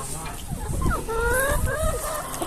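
Backyard chickens cluck and squawk in a series of close, rising calls, with a voice speaking faintly in the background.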